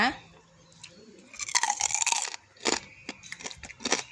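Crispy fried pork rinds (khaep mu) bitten and chewed up close, giving a string of loud, brittle crunches in quick bursts after a quiet start.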